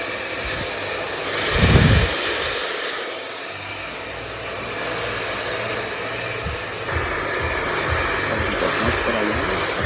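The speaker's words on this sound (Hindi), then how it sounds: "दो बंदे के साइड से ब्लो ड्राई कराता हूँ ताकि मेरा ब्लो ड्राई बहुत हो जाए और मैक्सिमम बाउंस हो जाए" A hair dryer blows steadily and close throughout while a stylist blow-dries layered hair with round brushes, with a brief louder surge near the start.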